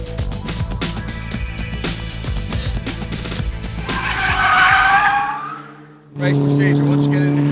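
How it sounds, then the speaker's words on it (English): Formula Ford single-seater race cars at Silverstone move off toward the track, engines revving loudly and continuously with rising and falling pitch, one car surging louder near the middle before a brief dip and a steady idle-like drone resumes. "it's time now for the Formula Ford single-seaters to make their way to the track"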